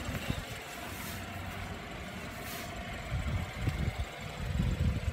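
A BMW 428 runs at a steady idle, a low rumbling drone with a faint vibration that swells a little louder near the end, with no talking over it.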